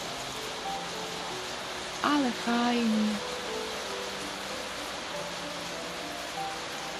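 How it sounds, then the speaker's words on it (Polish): Steady rain drumming outside, a constant wash of hiss and patter throughout, with a person speaking briefly partway through. "słucham, że coś dudni za oknem, a to deszcz"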